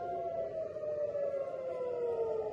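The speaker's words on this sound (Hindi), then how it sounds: "आप सायरन सुन सकते हैं।" An air raid siren wails steadily in Tel Aviv during a missile attack, a long drawn tone slowly falling in pitch, loud and continuous with no voices.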